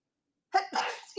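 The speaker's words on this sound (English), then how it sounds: "I got one more sneeze" A single sharp human sneeze after a moment of silence, close and loud, with a short breathy tail.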